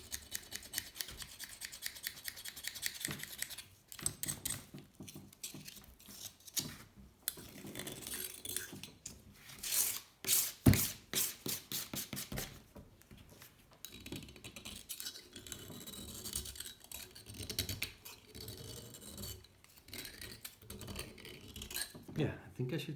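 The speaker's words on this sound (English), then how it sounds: "I just want to scratch this all off. And I'll do a little bit of sanding." Scratching and sanding on the piston of a tsunami-damaged 1984 Honda C70 Street Cub, close rhythmic rasping strokes with scraping bursts and occasional knocks.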